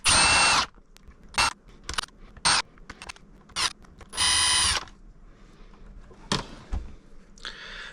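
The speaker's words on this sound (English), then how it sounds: "alright, so I got those screws out." A power driver backs screws out of the cover on a BBS02 e-bike motor controller in several short, loud whirring bursts, separated by quieter clicks and handling noise.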